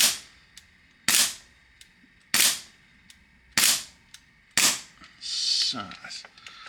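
Bomber Tiki paintball marker being test-fired while its fault is diagnosed: five sharp, loud shots roughly a second apart, each with a brief hissing decay, followed by a longer airy burst of hiss.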